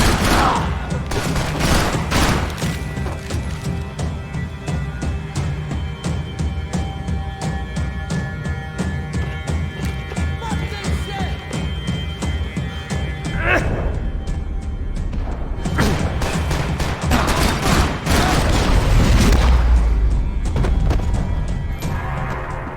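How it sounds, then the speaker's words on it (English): Dense, loud gunfire from the shooter game Max Payne 3, continuous rapid bursts of shots with heavy impacts throughout, with voices occasionally underneath the barrage. "Shoot till he stops!"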